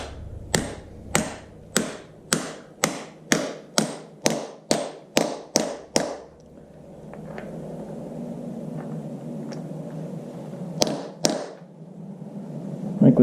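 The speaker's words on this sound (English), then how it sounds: "we'll just hammer home the new seal." Sharp metallic hammer blows drive a new seal onto the pedal shaft of an IHC Farmall Super M tractor with a socket: a quick rhythmic run of about a dozen strikes, a pause with low noise, then two more close, loud hits.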